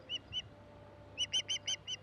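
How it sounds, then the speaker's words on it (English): A crow confronting an osprey along a Nova Scotia river caws in short harsh calls, two spaced ones followed by a quicker run of five, fairly faint and without speech. "This time, she's confronted by a crow."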